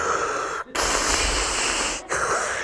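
A voice imitates a CPAP machine pushing air through a face mask at night: two long, loud, breathy hissing blasts, each broken by a brief pause, close to the mic.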